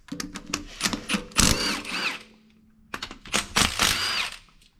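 Two M10 bolts with 14 mm heads being removed from an Outback differential skid plate area with a power tool: bursts of drilling whirr come in close, loud pulses with short gaps between them.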